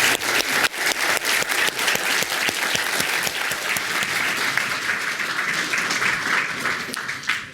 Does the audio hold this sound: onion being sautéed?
no